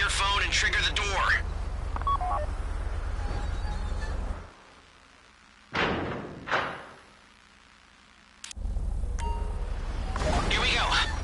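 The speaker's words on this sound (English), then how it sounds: "Take out your phone and trigger the door." In a video game heist, a phone dials to trigger a vault door, with short electronic beeps followed by heavy mechanical thuds and a clunk, set among bursts of busy game sound and talking.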